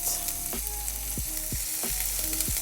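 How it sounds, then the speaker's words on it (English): Chopped onion sizzles steadily in a hot pan for vegan collard greens, a loud continuous frying hiss with a few low knocks as it is stirred, and no voices. "I like to add my onion before the garlic because your garlic can brown too fast."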